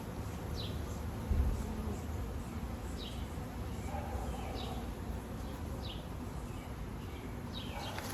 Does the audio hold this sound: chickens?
no